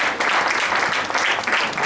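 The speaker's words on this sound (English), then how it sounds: "Can we give a round of applause for" Sustained crowd applause at All Saints University's 37th White Coat Ceremony in Dominica, steady dense clapping filling the hall without a break and no voices heard over it.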